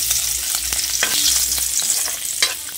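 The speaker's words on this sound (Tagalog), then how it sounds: "Prito tayo ng bagoong." Shrimp paste crackles and sizzles steadily as it fries in oil in a pan, with a few sharp pops and spatters over a bright hiss.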